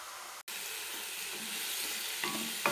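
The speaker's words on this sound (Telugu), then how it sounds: "ఈ పాలకూర అయితే ఒక 5 నిమిషాలు మగ్గబెట్టుకోవాలి." Spinach seasoned with salt, chili powder, turmeric and masala cooks down in a pan, giving a steady, even sizzling hiss that continues alone throughout, with a brief dropout near the start.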